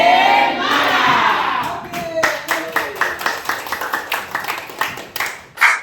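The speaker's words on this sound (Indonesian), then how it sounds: "Jadi kita harus bertepuk tangan untuk bersemangat." Schoolchildren in a classroom clap and shout enthusiastically, first a loud burst of cheering, then a rhythmic patterned clapping chant with sharp, evenly spaced claps and voices calling along.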